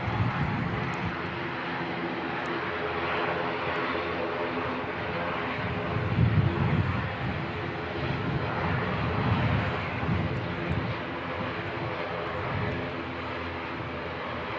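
An ATR turboprop taxis out at Christchurch Airport, making a low, steady engine hum with a faint tonal drone that swells softly around the middle, distant and alone.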